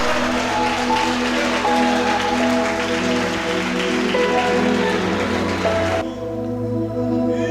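A church congregation applauds during a worship service, a dense, steady wash of clapping over sustained music that cuts off sharply near the end.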